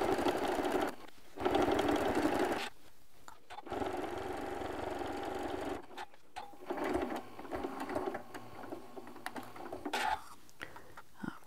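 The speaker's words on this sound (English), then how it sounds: "I'm just going to continue sewing this until I get to the corner" A sewing machine stitches binding onto a quilt in several bursts of steady whirring, broken by short pauses where the stitching stops and starts again, with no talk.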